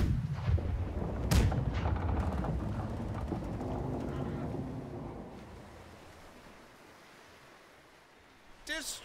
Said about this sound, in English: Load the starboard cannons quickly.